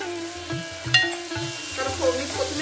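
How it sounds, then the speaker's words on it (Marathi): Tomato and onion masala, already softened, is sautéed and stirred in a pan for an Agri Koli style crab curry, giving steady scraping and stirring strokes with a soft frying sizzle throughout and no talking. "2 ते 3 मिनिट आपण हे व्यवस्थित आता परतून घेऊया"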